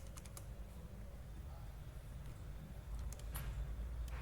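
Keys are typed on a computer keyboard while installing Arch Linux, a quiet run of light clicks and taps in small bursts, soft and close against a low background hum.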